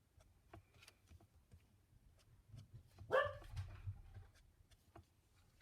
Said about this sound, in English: I've got the door open today and there's a magpie in the garden, so you can hear my little dog racing down